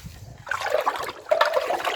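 Paint colour is stirred together with oil and liquid in a container, giving close, wet sloshing and trickling bursts in short irregular surges, with no speech.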